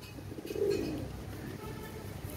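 A Salara Teddy pigeon gives a single low, soft coo near the start, fairly close and gentle against quiet background noise, with no talking.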